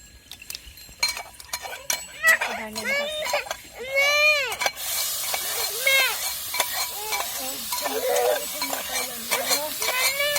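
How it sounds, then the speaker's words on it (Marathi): Cumin seeds, chili and garlic drop into hot oil halfway through, setting off a sudden loud, hissing sizzle that carries on to the end. Before that come voices and whiny cries, which continue under the frying. "आता आपलं तेल पण चांगलं तापलं आणि आपल्याला जिरे टाकून घ्यायचे"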